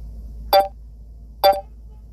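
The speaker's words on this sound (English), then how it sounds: "I can't stand that beeping sound." Two short, sharp electronic beeps, about a second apart, ring out over a low steady hum.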